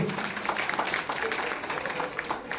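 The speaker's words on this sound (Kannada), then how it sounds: "ನಿಮ್ಗಾಗಿ ನೀವು ಜೋರಾಗಿ ಚಪ್ಪಾಳೆ" A crowd at a women's cultural celebration in Dharwad, the Shraddha Foundation's Samskritika Sambhrama 2025, claps steadily and densely. A voice carries over the continuous applause.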